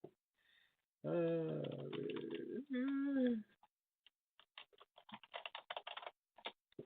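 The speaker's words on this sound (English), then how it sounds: "I typed it and I didn't say it" Keys tapped on a computer keyboard in quick, uneven bursts, close and fairly quiet, following a stretch of talking.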